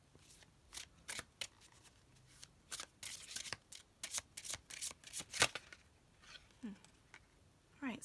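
Tarot cards being shuffled by hand in repeated bursts of quick riffling and flapping, close and fairly quiet, with short pauses between shuffles.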